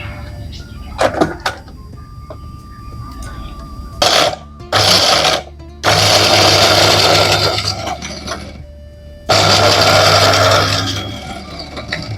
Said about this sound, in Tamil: இந்த பாதாம் கேஷ்யூ நட்டும் நம்ம ஜாரில் போட்டு அரைக்க போகிறோம்